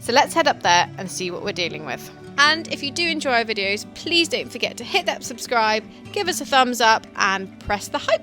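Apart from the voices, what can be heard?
None of the usual background noises is heard.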